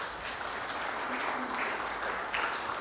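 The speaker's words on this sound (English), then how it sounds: "Applause, definitely, right?" Sustained applause from an audience at a community safety event, steady and fairly even throughout, with no voices over it.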